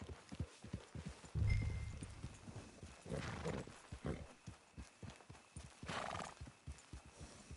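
Horse hooves clip-clop steadily in a video game, a continuous rhythmic plodding with a brief whinny partway through, set against faint ambient background.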